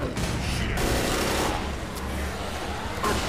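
Rapid gunfire bursts from the zombie shooter game Left 4 Dead, crackling continuously with engine-like rumble and game noise across the whole stretch, loud and dense with no pauses.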